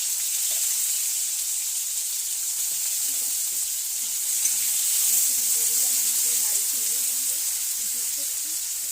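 Sliced bitter gourd sizzles and hisses steadily in a hot pan with occasional stirring scrapes, a soft continuous frying hiss, while a person talks faintly in the background.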